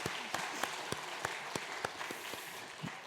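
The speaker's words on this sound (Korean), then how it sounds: "박수 한번 부탁드립니다" Scattered, sparse hand claps from a church congregation during an early-morning prayer service, a dozen or so distinct claps over a soft background murmur.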